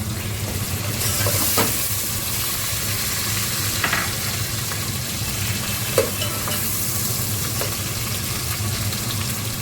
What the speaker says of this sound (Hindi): ब्राउन होने लगा है तो अब मैं इसमें टमाटर डाल दूंगी।